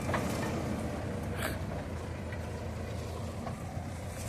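A steady, low Mahindra 755 tractor engine rumble runs throughout, moderately loud and continuous, like a tractor idling nearby, with no voices.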